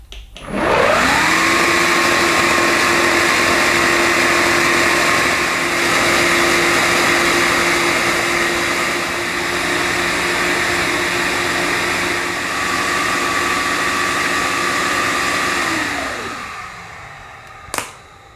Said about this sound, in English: You then recline the handle, switch the machine on, and squeeze the solution trigger for about 15 seconds.